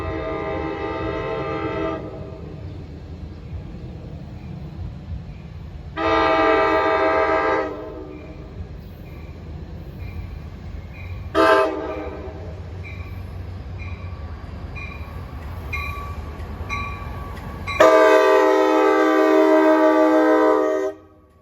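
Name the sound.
NJ Transit train passing level crossing, sounding horn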